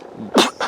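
A single sharp sneeze from one person, a brief close burst followed by a softer trailing breath, with quiet room tone before it.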